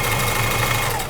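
A sewing machine runs steadily and close up, its continuous motor hum and rapid stitching rhythm holding at an even level throughout the short moment.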